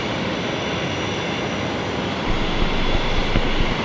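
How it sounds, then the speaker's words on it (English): An Airbus A330 jet taxiing at Brisbane Airport gives a steady broad engine roar that swells slightly partway through, loud and continuous with no voices. "But we'll follow the A330 here."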